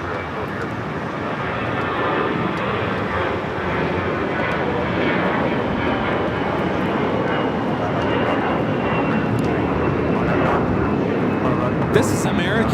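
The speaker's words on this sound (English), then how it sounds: "This is American Airlines 2091 taking off to Dallas Fort Worth on the A321." An American Airlines A321 airliner takes off from LAX bound for Dallas Fort Worth, its loud jet roar sustained and even across nearly thirteen seconds.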